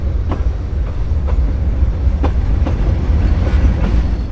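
Meter gauge train rolling into a railway station on the Bahraich to Mailani line, steady low rumble with regular clickety-clack wheel beats repeating across the track joints, close and continuous with no voices.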